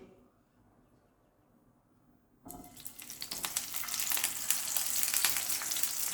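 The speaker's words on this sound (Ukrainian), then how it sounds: "Зараз першим посмажимо цей великий шматочок." A large piece of marinated lamb steak dropped into hot vegetable oil bursts into a loud, close sizzle after a quiet start and stays steady and crackling to the end.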